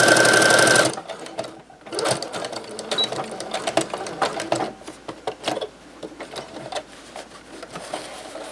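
Sewing machine stitching a hem along the top of a tote bag, opening with a loud continuous whir, then a lighter run of rapid mechanical clatter in uneven bursts, close and clear with no talking.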